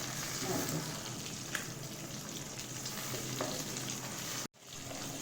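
Fish frying in a pan with green tomato, a dense steady sizzle close up with small stirring and flipping clicks, briefly cut out near the end before the hiss resumes.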